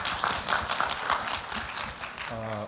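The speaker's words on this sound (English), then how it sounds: "give me a round of applause" An audience claps in applause, a dense, moderately loud patter of hands at a talk event, with a brief voice at the very end.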